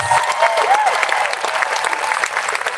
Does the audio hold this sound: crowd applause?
yes